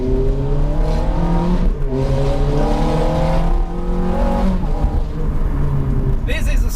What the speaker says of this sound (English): I'm in love with this exhaust note.